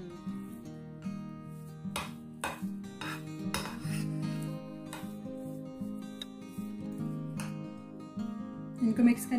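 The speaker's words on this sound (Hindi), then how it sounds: "इनको मिक्स करेंगे पहले।" Boiled potatoes, black pepper and crushed chilli being mixed in a bowl for potato bites, with repeated spoon scrapes and clinks against the dish, under a steady background tone and a few louder knocks near the end.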